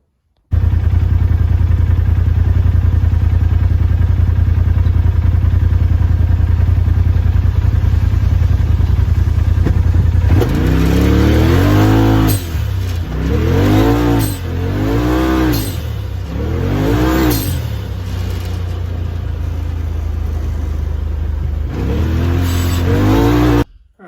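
A Polaris RZR engine fitted with an RPM Motorsport blow-off valve idles loudly close by, then revs repeatedly in sharp rising and falling bursts before settling back to idle and revving again.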